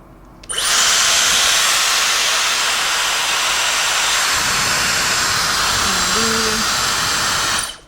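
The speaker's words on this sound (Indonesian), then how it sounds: "Ini tekanan anginnya yang paling tinggi guys, 3 fan." A Dyson Supersonic hair dryer blows at its highest airflow setting, a loud, steady, close-up rushing hiss that starts abruptly and holds evenly for several seconds before cutting off, with faint speech briefly underneath.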